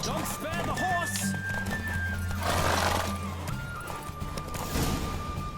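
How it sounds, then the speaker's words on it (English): In The Witcher 3 video game, a horse gallops with steady clip-clop hoofbeats and lets out a loud whinny during a race. A sustained musical score plays underneath, and rushing wind and voices are also present. "Don't spare the horse!"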